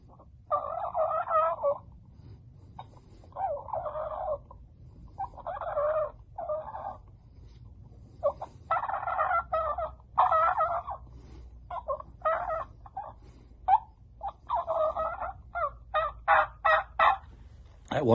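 A trumpet-style turkey call imitates a turkey gobble, producing a series of about eight short, throaty, gurgling bursts separated by brief pauses. The bursts are close and fairly loud, with no talking.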